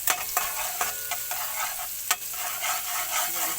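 Garlic sizzles steadily in a pan for bopis, a low-budget version made with tofu, with a constant bright frying hiss and a few sharp clicks from stirring, one louder knock near the middle.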